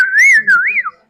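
A person whistles a single short, loud, close phrase with rising and falling pitch glides, imitating Gomeran silbo, the whistled language of La Gomera, in a way that resembles blackcap warbler song; nothing else is heard.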